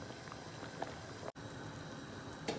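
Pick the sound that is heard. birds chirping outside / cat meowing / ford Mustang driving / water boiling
water boiling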